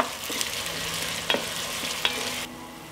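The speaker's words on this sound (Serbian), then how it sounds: "Dodat ću i beli luk i sve ću propržiti dok luk ne omekša." Chopped onion and garlic frying in oil in a pot, a steady soft sizzle with a few scraping stirs of a utensil, close and fairly quiet.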